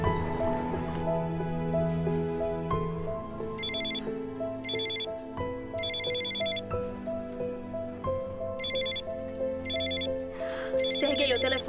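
A telephone rings with a repeating electronic ringtone in bursts, layered over background music in a dramatic film scene.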